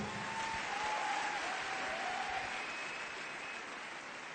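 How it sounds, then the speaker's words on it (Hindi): A large audience applauds loudly and steadily at a business award event, the dense clapping holding for several seconds before easing slightly. "प्लीज जोरदार ताली।"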